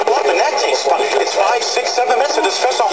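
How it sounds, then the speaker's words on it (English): A tuned-in broadcast on a single-tube radio with a voice coming through, carried over a constant background buzz and hiss. "Now you can hear a buzz in the background."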